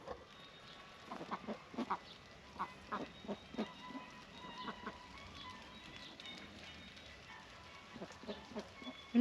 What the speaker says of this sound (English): The ducks have broken into the composter.